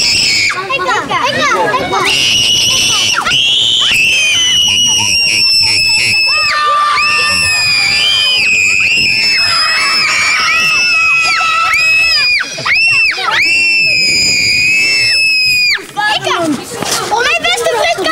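A crowd of children at a camp in Holland in 1999 screams and shrieks loudly and almost nonstop, with high piercing cries overlapping shouting voices.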